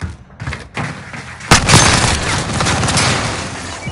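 Gunfire in the shooter Warzone: a few sharp thumps at first, then a loud sustained burst of rapid shots with a heavy boom at its onset, rolling on in a dense fusillade.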